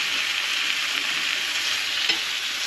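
Potatoes fry in a pan on a Camp Chef Deluxe camping stove, giving a steady, close, bright sizzle with no voices.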